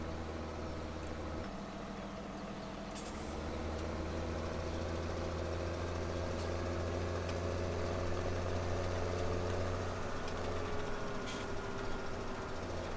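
A tractor engine in Farming Simulator 2017 runs with a continuous low droning hum, fairly faint and steady, the pitch shifting slightly a few seconds in before holding even.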